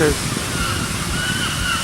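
Waterfall at Crawton on a coastal peninsula, a steady broadband rush of falling water filling the scene, constant and fairly loud, with no clear speech over it.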